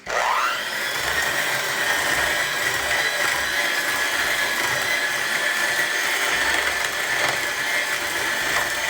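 Boston cream cake batter being stirred and mixed under a loud, steady whir of an electric mixer, the motor droning continuously and close up with only slight changes in pitch.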